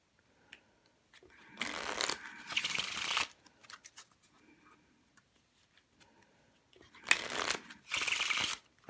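A Golden Age deck of playing cards is riffle shuffled up close, two quick bursts of rapid fluttering card riffles, then a quiet pause with small handling clicks before two more bursts.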